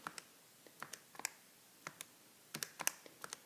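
Numbers are tapped in on a keyboard as sparse, quiet, irregular key clicks, close by and with no voices.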